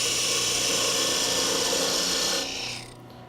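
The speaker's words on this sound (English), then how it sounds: "I'll use a parting tool, parting on my end line, the very length of the ornament" A parting tool cuts into a spinning wooden Christmas ornament on a lathe, giving a continuous raspy, high scraping hiss that stays steady for over two seconds and then drops off as the cut eases.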